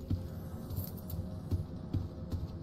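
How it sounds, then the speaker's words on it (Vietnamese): Keys jangle in a room in the Roblox game Doors, a faint metallic rattling that repeats in soft irregular clinks under low background noise. "cái tiếng chìa khóa phòng bên kia"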